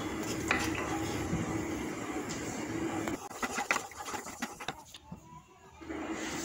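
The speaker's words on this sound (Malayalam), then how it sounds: "ഗ്യാസ് കത്തിച്ചതിന് ശേഷം നന്നായിട്ട് അത് ഇളക്കിക്കൊണ്ടേയിരിക്കണം" Metal scraping and clinking as a spoon stirs an arrowroot powder mixture in a pan over a low gas flame, irregular strokes close by, with no voices.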